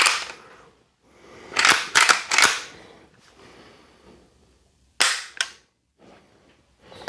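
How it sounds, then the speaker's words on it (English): A Henry H009 lever-action rifle in .30-30, fitted with a red dot, is dry-fired. Sharp metallic clicks and clacks come close up in two clusters, several quick snaps together and then a shorter pair after a pause. "Let's test the trigger on this."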